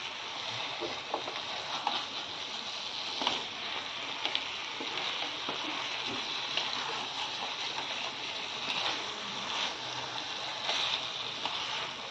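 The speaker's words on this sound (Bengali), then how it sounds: "এই মশলা ধোয়া জলটাও আমি দিয়ে দিলাম। ভালো করে কষিয়ে নেব আগে।" Chicken with spices sautéed (kosha) in a pan with the spice-rinsing water added for a thin Bengali chicken curry, giving a steady, moderately loud sizzle with occasional stirring scrapes throughout and no talk.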